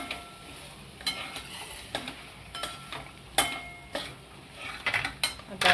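Mixed vegetables being stirred and sautéed in a pan, with intermittent scraping and clinking of a utensil against the pan over a soft sizzle, spaced irregular strokes, fairly close and quiet.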